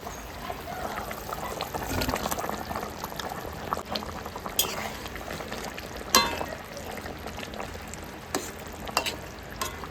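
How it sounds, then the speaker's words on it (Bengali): Fish curry broth bubbling in a pot at home, a continuous soft seething boil with scattered pops and splashes, plus a few sharper clinks, heard close. "মাছের ঝোলে আমার জাল উঠে গেছে"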